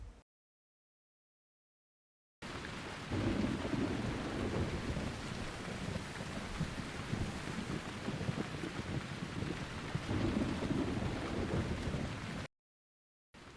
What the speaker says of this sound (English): Could you see the rain and thunder, or a stormy night perhaps?